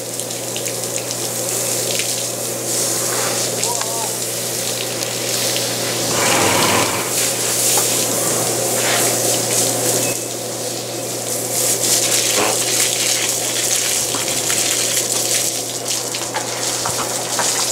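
A steady, loud stream of water from a hose pours onto a grey Lusitano stallion being bathed at a stud farm. The splashing and gushing continue without a break.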